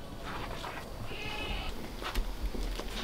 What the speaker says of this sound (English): Come on, goats.